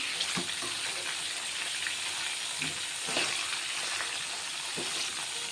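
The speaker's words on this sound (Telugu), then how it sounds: "వంకాయలు అయితే కొంచెం సిమ్లో పెట్టుకొని ఇట్లనైతే ఫ్రై చేసుకుంటున్నా." Brinjals fry in a pan on low heat for a masala curry, making a soft, even crackle with a few light stirring knocks, close and without talk.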